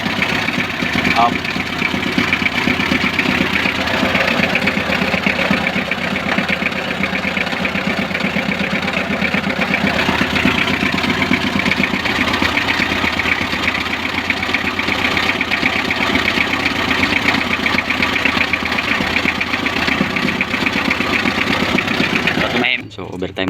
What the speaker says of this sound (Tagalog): para mapakinggan namin yung andar talaga ng makina na walang sumasabit